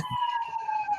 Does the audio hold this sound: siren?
yes